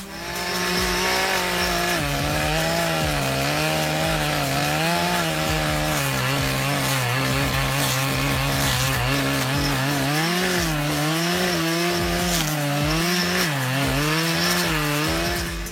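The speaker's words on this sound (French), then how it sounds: "une tronçonneuse équipée d'un dispositif d'écorçage" A Dolmar PS 61 chainsaw fitted with a debarking attachment runs loud and close for the whole stretch, its pitch wavering and rising as it revs and bites into wood.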